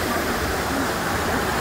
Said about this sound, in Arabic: هذا الشلال يستقبلكم.